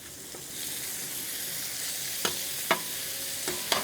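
Hash browns and chorizo fry on an outdoor griddle, giving a steady soft sizzle with a few sharp scrapes and taps of a spatula toward the end.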